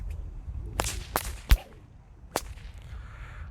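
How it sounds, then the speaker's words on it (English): A whip cracks in the breakaway three-crack pattern, built on a fast figure 8, giving sharp, loud snaps spaced unevenly over a few seconds with soft swishes between them, and no talking. "The breakaway is a 3-crack pattern where the whip does a fast figure 8 and a third crack is added on to make the whip travel horizontally."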